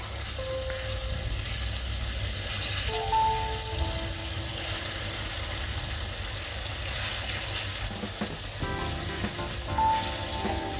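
Paneer fries with a steady sizzle that fills the scene, a continuous crackling hiss with faint clinks and scrapes from the pan, no voices.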